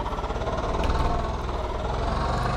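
A tractor engine in Farming Simulator 22 runs steadily at idle, a dense, continuous mechanical drone with a faint knocking pulse, close and unbroken throughout.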